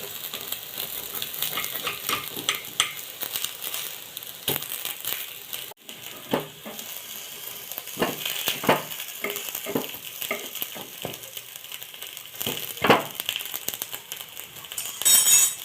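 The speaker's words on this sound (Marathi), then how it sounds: "पलटून घेऊया." Pumpkin appe fry in an appe pan after being flipped, giving a low, continuous sizzle broken by occasional metallic clicks and scrapes.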